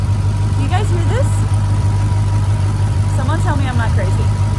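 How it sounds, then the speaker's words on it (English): A Jeep Trackhawk idles with a steady, deep engine rumble and a faint high whistle riding on top, close and constant, while a person talks over it. "I feel like I can hear it whistling right now. Just idling."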